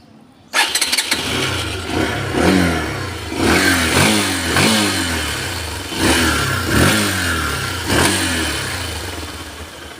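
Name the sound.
150cc motorcycle engine revving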